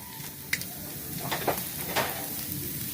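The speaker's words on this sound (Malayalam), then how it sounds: "ആദ്യം നമ്മൾ അരിഞ്ഞു വെച്ചിട്ടുള്ള ബീൻസ് അതിലേക്ക് ആഡ് ചെയ്യുകയാണ്" Chopped beans tipped into a hot pan on the stove for a vegetable biryani, giving a soft steady sizzle with a few brief scraping clatters, close and moderately quiet.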